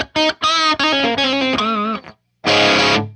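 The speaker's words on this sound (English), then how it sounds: "This sounds like the orange channel, just like with a bright switch or something." An electric guitar plays through a Line 6 Spider Valve HD100 tube amp on its orange channel, a bright, driven run of picked notes and bends, a short pause, then a loud sustained strummed chord, with no talking.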